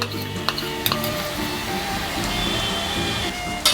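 Spice paste with tomato paste and ginger sautés in a pan, with a continuous close sizzle and a few sharp scraping clacks of a spoon as it is stirred.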